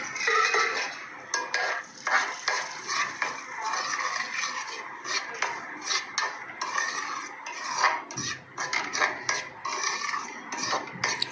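Besan roasted in desi ghee for halwa, with a spoon repeatedly scraping and stirring against a metal pot in a busy, continuous clatter, close and fairly loud.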